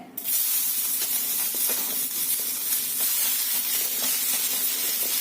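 Green tomato pieces frying on a hot iron griddle over medium flame give off a steady close hiss with faint crackle throughout, with no voices.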